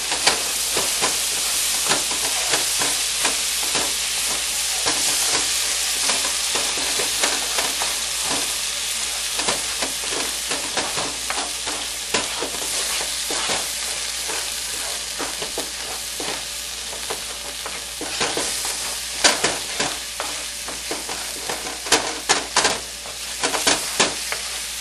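Tomato purée coulis heats in a pan for rice, giving a steady, close sizzle with scattered scraping stirs and a few louder clatters near the end, no voices.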